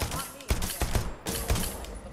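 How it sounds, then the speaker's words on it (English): Bursts of gunfire in the video game Deceit 2, three or four rapid shots fired close, with voice chat faintly audible underneath. "Why are you shooting me?"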